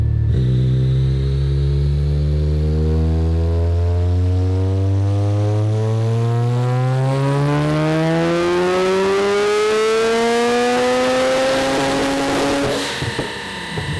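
A 700 HP Mazda RX-7 rotary engine, in a 2200 lb car, revs loudly and steadily on a dyno power run, its pitch climbing smoothly for about twelve seconds before cutting off abruptly.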